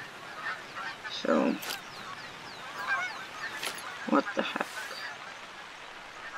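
Geese honk in short bursts in the video game The Hunter: Call of the Wild, some overlapping, against a low ambient background, while a person speaks briefly.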